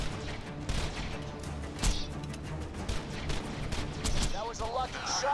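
Rapid gunfire from an enemy during a video game boss battle, dense repeated shots and bursts crackling throughout at moderate level with a few louder impacts.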